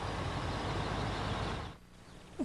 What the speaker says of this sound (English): and they saved me from that garbage truck